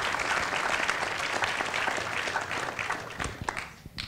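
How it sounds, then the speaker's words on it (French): Audience applause at a French public lecture on dark matter, steady moderate clapping from a seated crowd that thins out and tapers off toward the end. "il faut l'applaudir."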